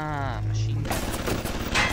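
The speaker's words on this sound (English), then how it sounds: "Machine gun." A machine gun turret firing in the Bioshock video game, a dense rapid burst of gunfire that breaks off and resumes, loud and continuous, mixed with a voice speaking over it.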